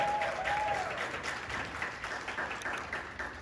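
Audience applause for kindergarten students at a school pinning ceremony, a steady wash of many hands clapping at moderate distance, with a brief whistle-like tone early on.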